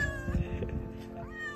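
A cat meows briefly outdoors, a short plaintive call over low rumbling background noise and faint movement, without any voices.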